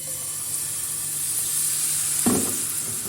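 Dill crepe batter fries in a pan with a soft, steady sizzle and hiss, and a short knock or clatter comes near the end.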